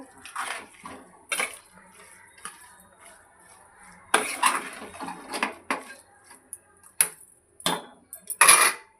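Spoon stirring paneer egg-style fry curry in a pan, heard as scraping, clinking strokes that come in irregular bursts with brief pauses.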